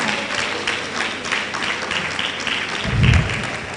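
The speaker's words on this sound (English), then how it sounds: "Please, a round of applause for her" Audience applause at an Ondo Kingdom honours celebration, a steady crowd of clapping and cheering that swells toward the end, with a few voices mixed in.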